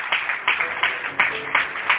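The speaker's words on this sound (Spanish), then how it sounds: "Dale un aplauso a Jesús." Applause for Jesus during a Spanish-language church service: rhythmic clapping bursts about every third of a second, moderately loud and steady across the short stretch, with a congregation in the room.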